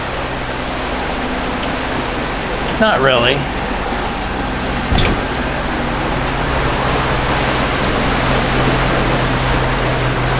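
Rough ocean heard from aboard a sailing catamaran offshore: a constant loud rush of wind and waves, with a brief spoken remark and a short thump partway through.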